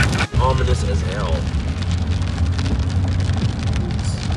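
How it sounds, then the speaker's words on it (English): Heavy rain pounding a surface during a severe thunderstorm with hail around, dense and close, while people talk excitedly over it. "This is a storm you don't want to mess with."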